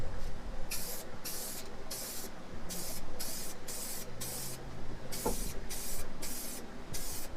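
Aerosol spray paint hisses in repeated short bursts of about half a second each onto a motorcycle helmet, close and steady, with brief pauses between passes and no talking.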